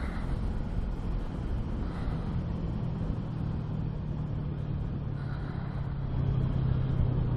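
A 2015 Yamaha R3 motorcycle with its stock exhaust minus the can, cruising in sixth gear, gives a steady low engine drone mixed with wind rush, alone with no talk.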